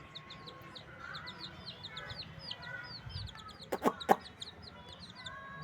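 Young chicks peeping in the early morning, a steady run of high thin chirps, with a few louder clucks from a hen and faint rustling close by.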